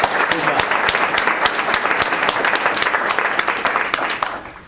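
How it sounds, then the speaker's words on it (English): A lecture audience gives a steady, full round of applause, dense even clapping throughout that tapers off at the very end. "So let's give him a round of applause."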